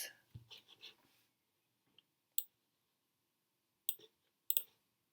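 Stylus tapping and writing on an iPad screen, a short run of soft scratchy strokes at the start followed by a few isolated sharp taps in near silence, quiet and close.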